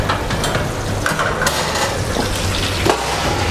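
Roast chicken fresh from the oven sizzles in its pan with a steady, close crackling hiss, small pops and clinks scattered throughout.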